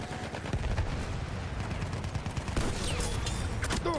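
Rapid gunfire in the first-person shooter Battlefield 1 rattles on without pause, with a few louder shots standing out from the dense, noisy battle.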